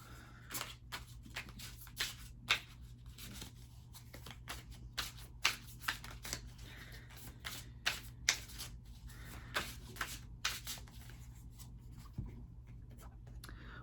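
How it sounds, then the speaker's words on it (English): A tarot deck is shuffled close by, soft papery riffles and flicks in irregular bursts over a low hum, quiet and intimate, with no speech. "So let's go ahead and draw a card from this tarot deck,"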